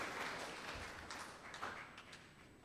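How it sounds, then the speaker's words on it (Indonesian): A church congregation at a Sunday HKBP service claps for the choir, faint and somewhat distant, a loose spread of hands that thins out toward the end. "sekali lagi kita tepuk tangan untuk tim paduan suara SPH."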